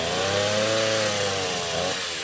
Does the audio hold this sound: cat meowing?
no